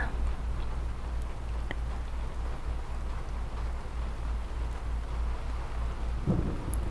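Steady rain falls with a low rumble of thunder underneath, calm and continuous, with no voices, in the video game Skyrim.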